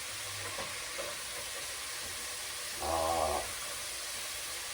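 Minced garlic frying in a pan over medium-high heat, a steady soft sizzle throughout with a brief louder burst of crackling midway, no talking.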